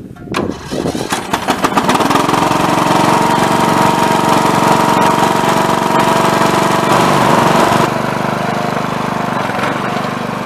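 A freshly repaired lawn mower engine sputters, catches, and roars into a loud, steady drone close by, holding its rumble before easing slightly toward the end.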